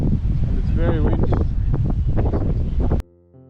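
Strong wind gusts buffet the microphone at the Uluru lookout, a loud, steady roar running under a person talking, ending with an abrupt cut.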